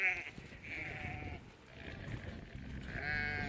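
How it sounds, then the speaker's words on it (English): Sheep bleat repeatedly at a farm during feeding time, with several drawn-out calls, some near and some overlapping, over a low background. "Oh, that's a funny looking sheep there."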